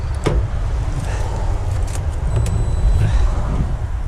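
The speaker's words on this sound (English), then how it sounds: "As you see, the engine sounds pretty rough." A Nissan 300ZX engine idling roughly with an uneven low rumble, heard up close alongside faint clicks and small mechanical noises, with no talk.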